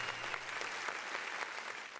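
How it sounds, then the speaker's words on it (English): Applause from an audience at the opening of a talk show, a steady wash of many hands clapping that fills the short stretch without any voice. "Round of applause for me."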